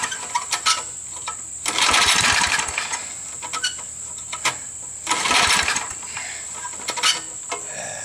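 An old Snapper lawn mower engine is pull-started. Two loud, rough bursts of engine noise come from close by, separated by quieter rattling and clicking of the starter and mechanism.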